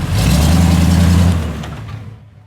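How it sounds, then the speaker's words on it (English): A tow truck on a muddy off-road recovery trail revs its engine hard, a loud, close mid-pitched roar that holds for about a second and then fades away as the vehicle pulls off. "Tow truck shortcut."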